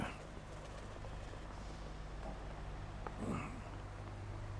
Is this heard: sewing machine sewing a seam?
no